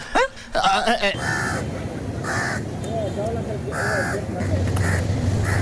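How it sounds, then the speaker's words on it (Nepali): A house crow caws repeatedly in harsh, evenly spaced calls, loud and near, over a constant background hum. "यो काग किन कराउँछौ"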